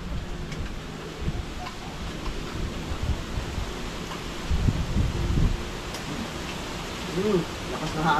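Strong wind blowing in a steady broadband roar with low gusty rumble, close and continuous, with occasional faint voices underneath.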